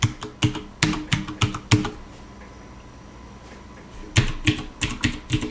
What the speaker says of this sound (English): Now let's bottom the keys out and see how they sound